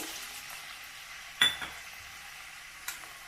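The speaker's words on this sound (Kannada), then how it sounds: "ಈರುಳ್ಳಿ ಸ್ವಲ್ಪ ಎಣ್ಣೆಯಲ್ಲಿ ಚೆನ್ನಾಗಿ ಫ್ರೈ ಮಾಡ್ಕೋಬೇಕು." Onions fry in hot oil in a pan as a soft, steady sizzle, broken by a couple of sharp metallic clinks of a spoon against the pan. Quiet and close, with no voices.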